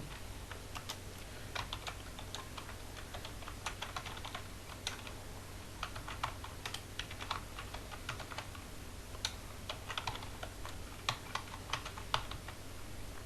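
Rapid, irregular clicking of a computer keyboard as someone types, steady close taps with brief pauses and no voices, over a faint low hum.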